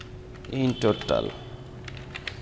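Several quick computer keyboard keystrokes clatter close by in a short burst, followed by sparser, fainter taps, while a person speaks in a quiet room.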